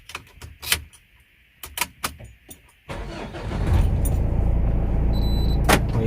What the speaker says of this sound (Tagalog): buksan muna natin yung engine para maikot natin